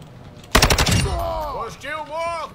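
A burst of rapid automatic gunfire in a video game rattles loud and close for about half a second, followed by ringing tonal effects and a voice talking.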